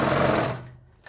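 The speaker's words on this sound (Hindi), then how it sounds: "अपनी पट्टी को एक बराबर ऐसे रखना है, इसके ऊपर सिलाई लगा देनी है।" A sewing machine stitching over a fabric strip laid on cloth, a fast buzzing run of stitches that stops abruptly about halfway through, leaving near silence.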